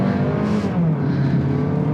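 A Mazda CX-30 SUV with the 2-litre engine accelerates, its engine note rising steadily and held close and loud for the whole stretch, with a low tonal drone climbing beneath broadband road noise.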